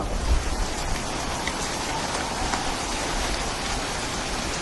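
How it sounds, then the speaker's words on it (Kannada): Steady rain pours down in a dense, even hiss, close and constant with no voices. "ಮಗು ಹುಟ್ಟಿದ ತಕ್ಷಣ ಮಳೆನೇ ಬರ್ತಿದೆ"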